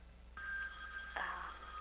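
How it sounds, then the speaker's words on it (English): A telephone rings in a radio studio during a talk show: a steady electronic ringing tone starts after a brief pause, then a second louder burst follows and carries on to the end, with no talk over it. "my phone's ringing"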